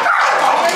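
A dog at a tailgate outside a football stadium gives loud, close yips and barks that run into whimpering whines, one continuous anxious burst.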